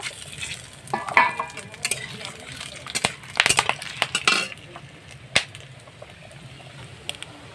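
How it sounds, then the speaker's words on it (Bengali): Meat fries in a pan with a steady sizzle, punctuated by clinks and scraping stirs against metal, louder in a burst midway before settling back to a gentler hiss. "আমি মাংসটা একটু ভাজা ভাজা হয়েছে, তখন আমি আদা রসুন বাটাটা দিয়ে দিয়েছি"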